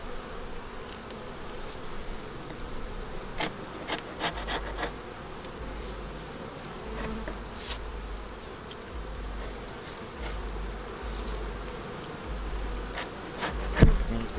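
Honey bees buzzing steadily at an open hive in cold weather during feeding and propolis removal, a continuous close drone with scattered louder passes of individual bees and a brief knock near the end.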